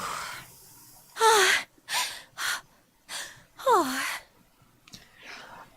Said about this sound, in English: Everyone's panting.